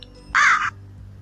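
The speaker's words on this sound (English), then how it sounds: "You hear the crows?" A single loud, harsh crow caw rings out close by, one short raspy call against a quiet background.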